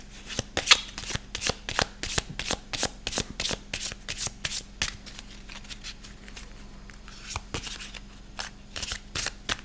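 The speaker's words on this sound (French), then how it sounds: "On va mélanger maintenant ces petites cartes de cet oracle." Small oracle cards being shuffled by hand, a close, crisp run of riffling flicks and soft slaps repeating in quick bursts with no talking.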